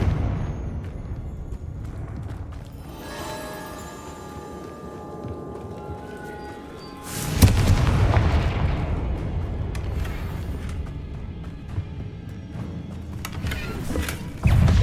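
A Confringo fire spell in Hogwarts Legacy goes off with a deep, rumbling blast partway through, following a stretch of low mechanical humming and tones, and the booming noise then trails off in a long roar.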